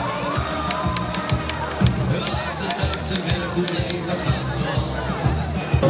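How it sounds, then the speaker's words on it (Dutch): Crowd at a snack bar awards event cheering and clapping for the winners, with sharp claps, shouts and lively chatter mixed together throughout. "Geef ze nog één oorverdovend applaus."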